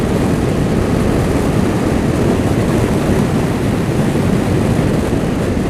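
A 2012 Suzuki SFV650 Gladius motorcycle accelerating hard on the road, its engine roar buried in a loud, steady rush of wind buffeting the microphone throughout.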